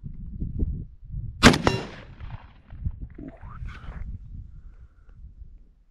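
A single loud rifle shot from a Browning Mk3 chambered in .30-06 with an Aimpoint sight, cracking sharply then trailing off in a brief echo, with quieter low shuffling noises before and after.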